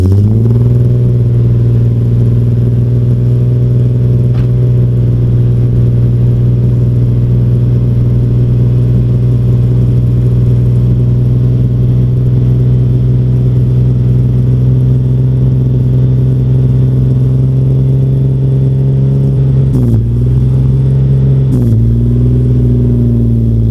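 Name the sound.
car driving on a test drive around the block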